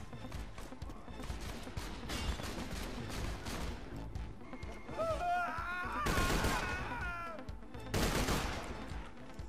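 Gunfire in the video game Borderlands 2 comes as dense bursts of shots, with a louder heavy volley in the middle and another near the end over busy game sound, and a faint voice now and then.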